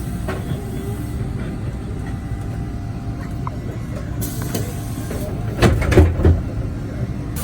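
Interior of an Amtrak Acela Express train in business class on the Northeast Corridor between New York and Washington, with a steady low rumble and rolling noise. A few louder clunks and rattles come through near the end.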